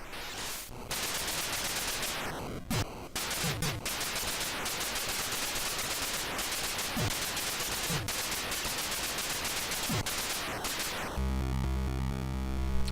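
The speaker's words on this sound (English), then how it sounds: "The explosion in this is pretty good as well." Harsh, noisy chiptune-style gunfire and explosions from the NES game Dropzone crackle in rapid bursts with several sharp blasts, ending in a buzzy electronic tone.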